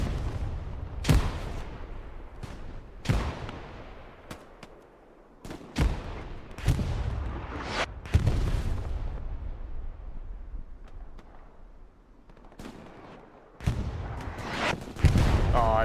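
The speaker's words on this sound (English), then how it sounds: "people just spawning on OPs now, getting farmed from arty" Artillery shells and explosions in Hell Let Loose on Omaha Beach, heavy booming impacts landing in irregular bursts, some sharp and close, others rolling and distant, with low rumbling decay between them.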